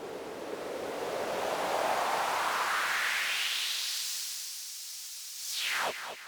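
DJ white noise sweep effect in a four-deck mix: a loud hissing wash rises in pitch over several seconds, fades away, then ends with a few quick whooshing swishes.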